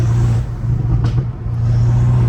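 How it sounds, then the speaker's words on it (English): Straight-piped BMW M5 Competition engine spooling up loud and close, a steady low droning roar with a rising whoosh near the middle before settling back to a heavy rumble. "How does it actually spool that hard?"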